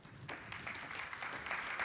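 An audience at a community hub opening event gives steady, fairly faint applause, with dense clapping heard from a distance at a panel introduction.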